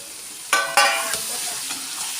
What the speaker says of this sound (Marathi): हे माझं घरगुती तिखट आहे आणि ती थोडासा मी तळते त्याच्यामध्ये